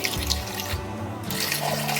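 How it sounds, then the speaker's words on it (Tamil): Water pours steadily into a pressure cooker holding cut drumstick pieces for a Tamil drumstick chapathi recipe, a continuous splashing stream that runs alone and close throughout. "குக்கரில் இது சேர்த்துக்கலாம் கொஞ்சமாக தண்ணி"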